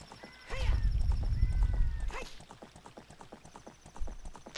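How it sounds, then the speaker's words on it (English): Horse in the video game Zelda Ocarina of Time whinnying twice over a heavy low rumble, then steady clip-clop hoofbeats trotting along, with a player's voice talking over parts of it. "Get on the horse."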